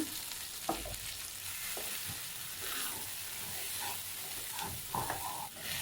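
Bajji chillies frying in a pan while being stirred now and then, a quiet continuous sizzle with occasional soft scraping knocks, no voices.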